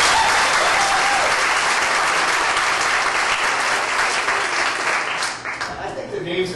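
A studio audience breaks into loud, sustained applause during a true-or-false story game, a thick wash of clapping that holds steady, then thins and tapers near the end.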